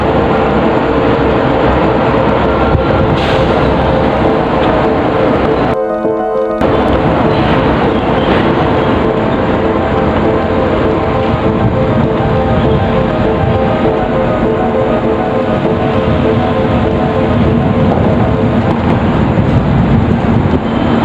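Strong wind roars continuously in open roadside surroundings near NLEX, a loud, broad, steady rushing noise filling the whole span with a brief buffeting burst partway through, no talking.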